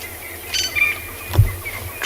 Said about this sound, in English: Drongos, crested francolins, doves.